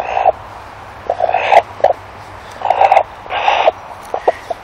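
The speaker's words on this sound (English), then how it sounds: "what noises chickens make when they're upset" A nervous, formerly feral chicken being picked up and handled gives a run of agitated squawks and croaky distress calls in short repeated bursts, close and fairly loud, with brief pauses between outbursts.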